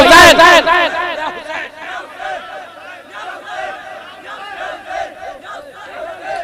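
A large crowd at a religious gathering chanting "Ya Hussain" in unison, loud and close, opening with a strong burst and then carrying on in repeated, rhythmic swells of voices.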